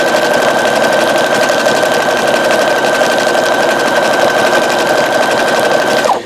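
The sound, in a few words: Brother CS-8150 sewing machine stitching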